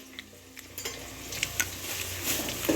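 Chopped onion sizzling in a pan, a soft steady fry with a few light scrapes and clinks building slightly toward the end.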